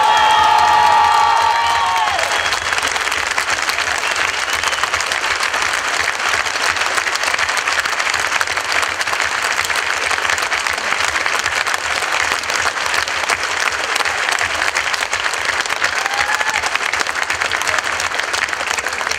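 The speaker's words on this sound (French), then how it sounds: "il faut vraiment donner un tonnerre d'applaudissements pour le PTB" Thunderous applause and cheering from a crowd at a political party rally, a dense, loud, sustained clapping roar that runs unbroken throughout, with occasional shouts and whoops rising above it.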